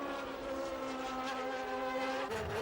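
Formula 1 cars from the 1990 season scream along the track, a loud sustained high-revving engine whine that holds steady and then drops in pitch as a car passes near the end.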